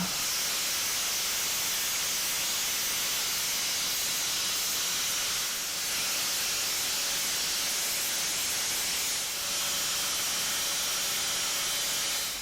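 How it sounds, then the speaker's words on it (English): A straight grinder strips rust from the differential housing of a Jaguar S-Type, giving a loud, steady, hissing whine that runs almost without pause, dipping only briefly a couple of times. "That's a straight grinder, and even though it's not a fancy brand"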